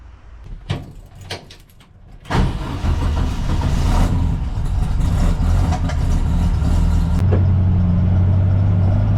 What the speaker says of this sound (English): there's nothing left to do but jump in, give it a ride, hit a few bumps, and see if we can live with the ride now